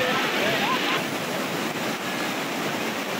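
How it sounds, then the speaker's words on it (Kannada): Water overflows the spillway of the Vani Vilas dam at Hiriyur, making a steady, loud broadband rush with no breaks, close at hand and alone. "ನೋಡಿ ಕೋಡಿ ಬಿದ್ದಿರೋ"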